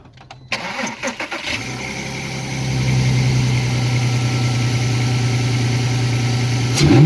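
A MK2 Audi TT fitted with a CTS turbo intake cranks briefly, catches and settles into a loud, steady idle up close, rising slightly toward the end.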